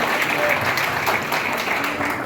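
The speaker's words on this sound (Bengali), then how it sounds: "সবার জন্য একটা জোরে করতালি দিব।" Loud, continuous applause from the crowd at a volunteers' gala night for the Unimart Sylhet Half Marathon 2023, close and full, with faint voices beneath.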